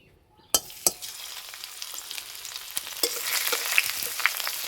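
Grated ginger and garlic hit hot oil in a wok with a sharp crackle, then settle into a steady sizzle broken by a few stirring clicks and pops, close and clear.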